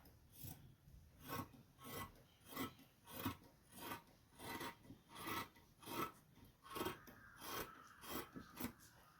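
Scissors cut through fabric for a top in a rhythmic series of quiet, regular rasping snips, about a dozen close strokes with no talk.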